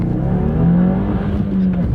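A turbocharged Subaru WRX with 271 horsepower accelerates hard on a small drag strip, its engine note a steady, loud, close drone that climbs in pitch and holds through the run, with no talking.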